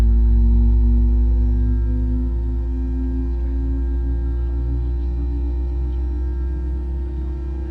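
Airbus A321 jet engines running steadily in a flight simulator, a loud low droning hum with a sustained tonal whine that holds constant throughout and eases slightly toward the end, with no talking.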